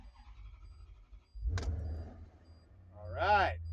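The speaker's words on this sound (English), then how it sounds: "I usually let it warm up for a few minutes because, you know, it's an expensive car and you got to let it achieve operating temperature" An expensive car's engine cranks and fires with a sudden burst, then settles into a low steady idle as it warms up, while a person speaks briefly nearby.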